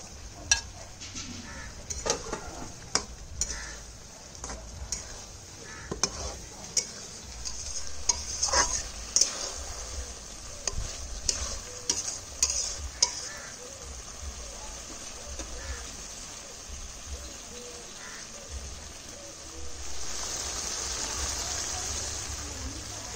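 Eggplant pieces frying in a pan give a soft sizzle under repeated scrapes and clacks of stirring. The stirring comes in irregular bursts during the first half, then a steadier hiss follows, close and moderate.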